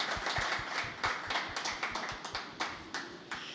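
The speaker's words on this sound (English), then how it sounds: "So let's start with a big round of applause to her." A small audience at an art museum talk claps in a round of applause, separate hand claps clearly audible and fairly quiet, thinning toward the end.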